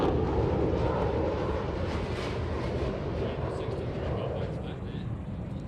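A Saab Gripen fighter jet rolls through back-to-back aerobatic rolls at an airshow, its engine a loud, steady broadband roar that fades slightly toward the end.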